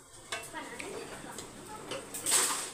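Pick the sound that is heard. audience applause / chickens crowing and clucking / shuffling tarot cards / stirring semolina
stirring semolina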